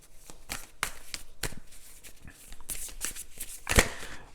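Playing cards riffled and shuffled by hand, with a run of quick, close, papery bursts broken by short pauses and a sharp snap as a card is pulled from the deck near the end.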